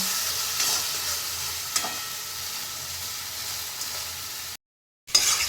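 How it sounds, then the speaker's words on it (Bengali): Spice masala for a duck egg curry stir-fried in a kadai, a steady close sizzle with occasional scrape accents, broken by a brief silent gap near the end before the frying resumes. "এগুলো দিয়ে এবার খুব ভালো করে কষিয়ে নেব"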